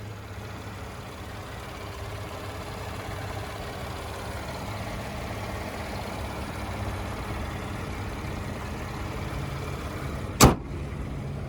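A 2020 Chevrolet Colorado Z71 4WD with its 3.6-liter V6 runs at a steady idle, a low, even hum that holds throughout, with one short sharp knock or click near the end.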